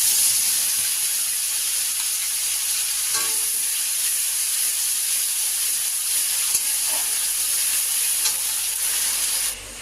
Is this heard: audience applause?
no